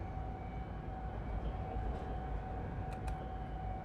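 Electric train running on the Wien to Bratislava Petržalka route in Train Simulator Classic: a steady low rumble with a constant cab hum and a couple of brief high clicks near the end, no talk.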